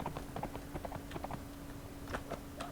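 Spider horse galloping in the fantasy video game Warsword Conquest, a rapid run of clip-clop hoofbeats at steady rhythm over a constant background hum, fairly quiet and without talk.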